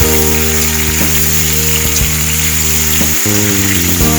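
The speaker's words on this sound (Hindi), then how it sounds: "और ये मेरे आम देखिए फ्राई हो रहे हैं" Raw mango pieces fry in ghee for a sweet mango murabba, giving a steady close sizzle under a loud, continuous droning hum with a few brief clicks.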